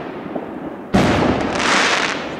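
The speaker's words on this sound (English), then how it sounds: "All this firing rockets and noise making me" New Year fireworks rockets go off in Sweden, with one loud sudden bang followed by a sustained crackling, fizzing barrage that stays dense and near.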